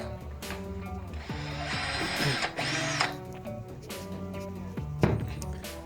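A power drill with a small bit whirs in several bursts while drilling a pass-through hole in a plaque, its pitch rising and falling as it bites, mixed with clicks and handling noises nearby.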